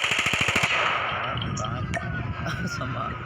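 A new gun fires in the Call of Duty video game, opening with a rapid burst of loud automatic shots, then falling into busy game noise and a few scattered sharp clicks and pings.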